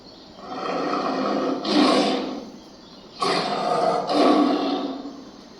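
Big cat roaring in three long, rough, breathy bursts, each swelling and fading with short pauses between. The roars are loud and close, with no speech.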